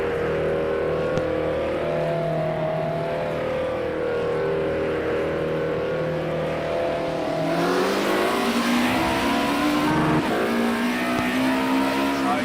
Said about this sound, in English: So he's just exiting his pit box now.